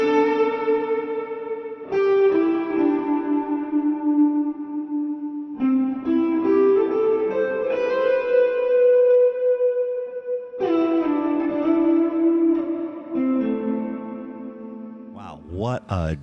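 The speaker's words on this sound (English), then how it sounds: "That's a beautiful sound of reverb." Kurzweil KSP8 hall reverb on the My Dreamy 481 preset, applied to a sustained, chorused electric guitar, with long held notes and chords that bloom and trail off in a spacious wash, ending in a warbling swell.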